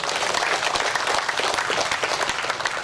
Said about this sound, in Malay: Tuan-tuan kena bagi tepukan kuat.